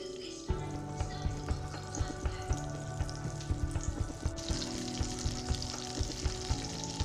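Oil and butter warm in a pan already used for cooking, ahead of frying flathead fish, making a steady crackling sizzle with small regular clicks and pops under a continuous hiss.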